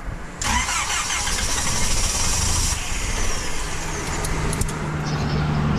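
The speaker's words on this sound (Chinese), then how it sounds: "海拔高打火有点费劲了呀" A car engine cranks and catches at about 3,200 m altitude, struggling to start before settling into a steady, loud idle close by with no talking.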